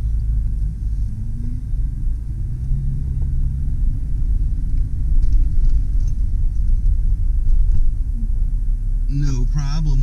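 A 2001 Jeep Grand Cherokee Laredo 4WD with the 4.0L inline-six reverses on a test drive, its low engine rumble steady and close, with a brief rise midway and someone talking over it.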